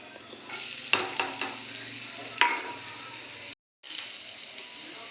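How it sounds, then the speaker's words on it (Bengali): Onion fries with cumin seeds in a pan, a steady close sizzle with a few sharp crackles and stirring scrapes, briefly cutting out before the sizzle resumes. "আর একটু পেঁয়াজ ভেজে"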